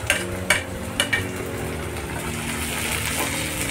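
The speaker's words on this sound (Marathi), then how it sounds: "सगळ्या भाज्या चांगल्या फ्राय करून घ्यायच्या" Mixed vegetables with spring onion stir-fried in a pan for veg Schezwan noodles: a few sharp utensil clinks against the pan at the start, then a steady, close sizzle.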